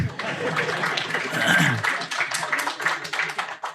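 Applause breaks out at a Pakistani political seminar, a dense, steady patter of clapping from a crowd mixed with some chuckling and voices, holding at fairly even loudness throughout.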